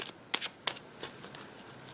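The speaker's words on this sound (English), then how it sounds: "It's just the cards are just so they're sliding around in my hand right now" Tarot cards being shuffled and slid around by hand, giving a few crisp riffling bursts followed by softer, scattered papery rustles, close and fairly quiet with no talking.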